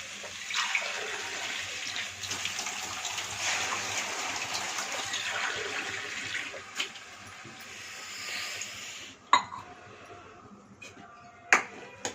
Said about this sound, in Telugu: ఇప్పుడు ఇందులో వాటర్ పోసుకుందామండి.